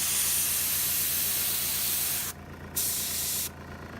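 An airbrush sprays blue paint onto a Forgeworld KX 139 model, a close steady hiss that cuts off briefly, resumes in a short burst, then stops again.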